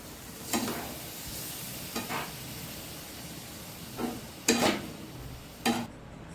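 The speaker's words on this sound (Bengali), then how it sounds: "আমি অল্প দুধ দিয়ে নেড়ে আবার দুধ দিয়ে দেবো" Pasta stirred in a hot pan with a splash of milk, a faint steady hiss and sizzle punctuated by four or five distinct stirring strokes, the loudest near the end.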